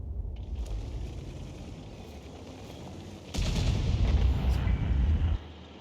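An Object 261 artillery gun fires in a video game, and the shell hits a cabin. Distant rumbling gives way to a louder, sustained boom and roar. Someone talks over the sound.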